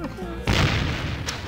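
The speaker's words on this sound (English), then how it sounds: "the next step is to use the cannon" A cannon in The Curse of Monkey Island fires at longboats, one loud close boom that follows a short lead-in of game sound and then trails off in a rumbling decay.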